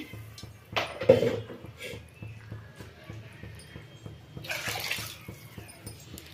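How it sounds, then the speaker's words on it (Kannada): Water splashes into a mixer grinder jar as it is rinsed out, two short gushing bursts a few seconds apart with light clatter in between, fairly close. "ಮಿಕ್ಸಿ ಬಟ್ಲನ್ನ ತೊಳ್ಕೊಂಡು ಅದನ್ನು ಹಾಕ್ಕೊಳ್ತೀನಿ"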